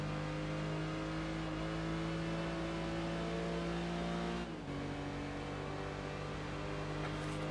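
Race cars in Gran Turismo 4, including a Mazda Miata and a Speedster, drone at high, sustained engine revs, a steady loud whine with a brief dip and shift midway.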